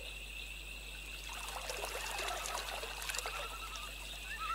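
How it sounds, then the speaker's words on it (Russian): A clear, shallow stream babbles and trickles steadily at close range, with a continuous watery wash and a few faint bird chirps near the end; no voices. "И перед нашим взором журчащий ручей"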